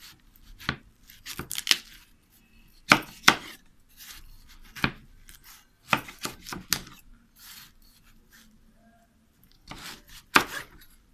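A knife cutting a washed watermelon into equal pieces on a board, a series of close, crisp chopping strokes in quick clusters separated by short pauses.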